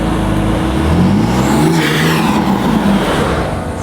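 A turbocharged BMW M3 fitted with front mount intakes roars loudly and close, its engine revving hard with a rising, whooshing turbo character and a hint of tire noise, with no talking.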